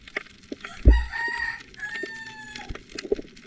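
A rooster crows loudly nearby in one long drawn-out call, with a few clucks and scattered knocks before and after.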